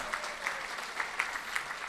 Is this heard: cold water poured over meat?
no